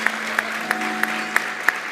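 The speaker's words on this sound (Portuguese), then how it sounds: "Uau, uma salva de palmas, né?" A studio audience on a Brazilian talk show breaks into a short round of applause: a steady wash of many hands clapping, with sharper individual claps poking out at regular intervals.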